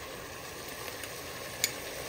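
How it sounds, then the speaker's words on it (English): Meat frying on a stovetop over high heat, giving a steady, fairly quiet sizzle with faint stirring and one small clink near the end, without any talk. "And we just keep frying that on the stove."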